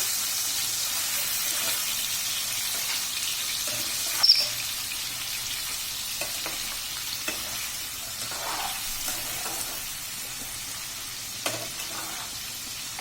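Prawns and fish fry in oil for a curry, giving a steady close sizzle with occasional sharp pops and clinks, no voices heard.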